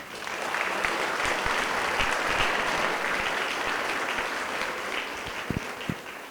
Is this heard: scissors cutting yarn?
no